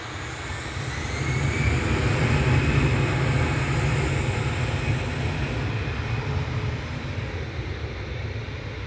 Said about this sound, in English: Next in is Aer Lingus from Orlando, A330-300 Gala, G-E-I-L-A. Flight 34 should be touching down any moment.